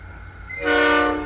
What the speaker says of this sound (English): Warnable freight passing through Wyndham Vale.